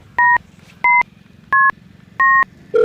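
Four evenly spaced two-tone telephone keypad beeps sound clearly over a low background hum, followed by the start of a steady dial tone.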